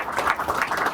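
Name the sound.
audience applause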